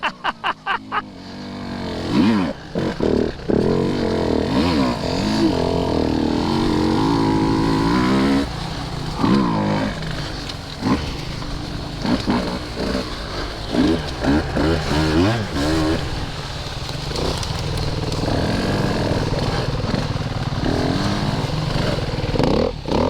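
Husqvarna TE150 two-stroke dirt bike revving and surging while pulling wheelies, engine notes rising and falling near the mic under music and talk.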